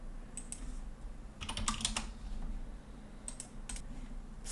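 A computer mouse clicks faintly during CAD work drawing winding stairs, with a few scattered single clicks and a quick cluster in the middle over a steady low hiss and no talking.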